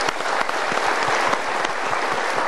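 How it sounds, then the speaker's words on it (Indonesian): An audience at a motivational seminar breaks into steady, dense applause, an unbroken wash of many hands clapping at close range. "Kita berikan tepuk tangan dulu."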